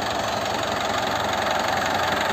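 A 2009 Isuzu Panther LM Smart Turbo diesel engine idles steadily and close up, a continuous low knocking rumble with no voices over it.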